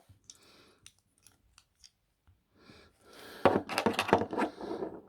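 Plastic parts of a Transformers Bumblebee toy make small scattered clicks as the feet are folded, then a denser burst of louder snapping and creaking plastic, all close up.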